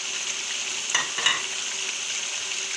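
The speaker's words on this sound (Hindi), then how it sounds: "इसको 10 मिनट के लिए अच्छी तरह भूनेंगे" Chicken and potatoes fry in a pot for degi biryani, a continuous close hiss of sizzling oil with two brief scraping stirs of the spoon partway through.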